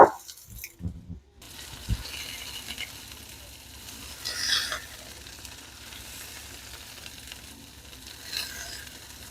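Homemade meatballs browning in a frying pan give a steady crackling sizzle, with a few louder bursts of spitting fat as they are turned and nudged onto their sides.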